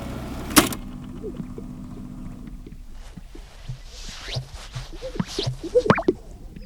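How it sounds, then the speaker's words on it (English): A male sage grouse performs its springtime courtship display on a lek in the Great Basin, with soft popping, plopping and whooshing sounds over an open outdoor background, preceded by a sharp knock. "The sound you are hearing is a male sage grouse during their courtship display on a"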